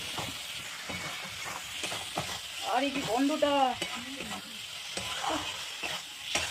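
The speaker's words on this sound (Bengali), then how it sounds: "দেখতেই পাচ্ছ আমাদের নাড়ানো চাড়ানো প্রায় কমপ্লিট" A spice mixture for bhetki fish curry is stirred and fried in a pan, with a steady sizzle and hiss under repeated scraping stirs, close and moderately loud throughout.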